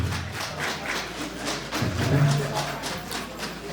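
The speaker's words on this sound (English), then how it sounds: "can y'all give Mr. Carlos Sanchez a round of applause?" A crowd at a public housing meeting applauds for Mr. Carlos Sanchez, with steady, moderately loud clapping from many hands lasting several seconds.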